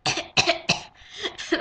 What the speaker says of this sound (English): people will be like, coughing in your face